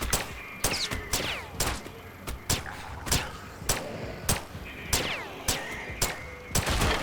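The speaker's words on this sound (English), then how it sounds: "Let me shoot this." Gunfire in the video game The Last Stand: Aftermath, a series of sharp, evenly spaced shots cracking out about once every half second over a quiet background.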